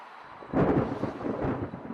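A deep rolling rumble of thunder swells in suddenly and growls on, loud and low, with no voices.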